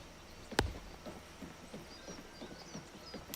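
Horse hooves in the video game Oblivion Remastered, a slow run of soft clip-clop steps as the horse shuffles and backs up, with one sharp louder thud near the start over a quiet ambient background.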